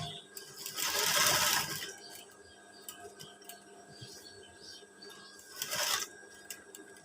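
Sewing machine stitching around a pocket on a teacher's uniform shirt with a stand collar, two short bursts of stitching with quiet handling and faint clicks between them.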